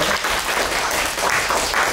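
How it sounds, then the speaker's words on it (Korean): Audience applause after a student presentation in a university HCI lecture class, a steady, dense patter of many hands clapping close by for two seconds with no talk over it. "박수 한번 주세요"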